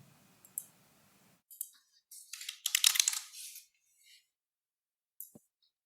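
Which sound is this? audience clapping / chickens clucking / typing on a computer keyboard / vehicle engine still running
typing on a computer keyboard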